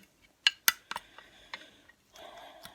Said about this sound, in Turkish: Şöyle patatesi birazcık karıştırın.